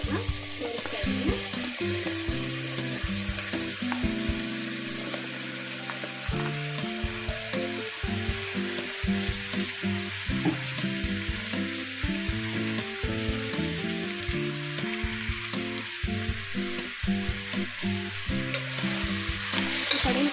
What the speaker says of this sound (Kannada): ಪಡವಲಕಾಯಿನ ಸ್ವಲ್ಪ ಚೆನ್ನಾಗಿ ಫ್ರೈ ಮಾಡ್ಕೊಳ್ಳೋಣ.